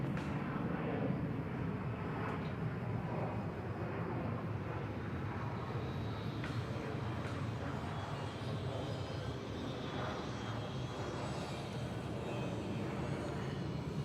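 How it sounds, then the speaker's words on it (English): Airbus airliners taxi at Bangkok Suvarnabhumi Airport, their jet engines making a steady, broad rumbling roar that holds evenly throughout at moderate distance, with no voices. "Small little Airbus conga line there on taxiway hotel."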